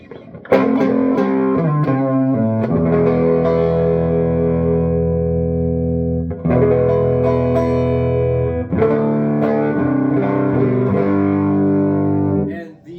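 Electric guitar on the neck pickup through a 3 Monkeys Sock Monkey 18-watt amp, playing sustained chords with slight distortion and reverb in three phrases separated by brief pauses, loud and close with no talking.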